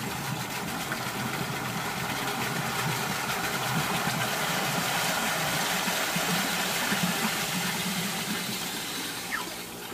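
A Vevor 115V 24GPM well pump runs under a pressure test as its valve is cracked, giving a steady, close motor hum mixed with rushing water noise that holds throughout.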